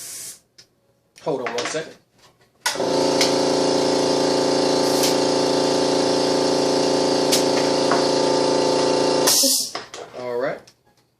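Compressed air hisses steadily into a car tire for about seven seconds, loud and close, with brief talk before and after and a short burst of air at the end.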